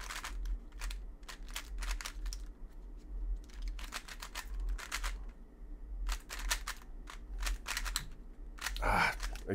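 A Fangshi JieYun speed cube clicks and clacks during a solve, with quick bursts of small sharp turns separated by short pauses, close and fairly faint.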